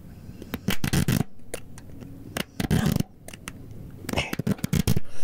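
Uno playing cards being shuffled up close, quick papery riffles and snaps in irregular bursts separated by short pauses, crisp and intimate with no voices.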